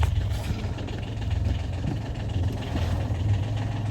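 A sailboat's engine runs just after starting, giving a steady, low idling rumble with a faint mechanical hum that holds evenly throughout and has no voices over it.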